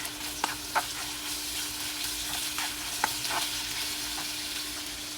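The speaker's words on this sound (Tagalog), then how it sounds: "ilagay ko na yung red tomato. Antay lang tayo ng 1 minute for saute." Red tomato sautéing in a pan, a steady close sizzle and frying hiss with a few sharp clinks and scrapes of stirring, no talking.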